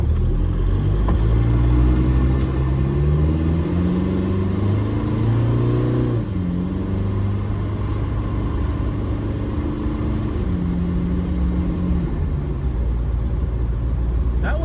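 A diesel TDI Jeep Wrangler with an AW4 automatic drives at half throttle, its engine note loud and close as it climbs in pitch, dips at a gear change, then rises again, with no voices.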